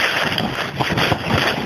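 Strong wind gusts buffeting an Akto tent at night in Glen Etive near Ben Starav, winds of 55 mph gusting to 75 mph, ground shaking: loud, continuous roaring and flapping with rough surges, close around the shelter.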